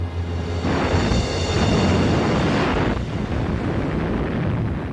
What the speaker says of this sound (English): A series of devastating explosions rocked the Scharnhorst as the torpedoes found their target.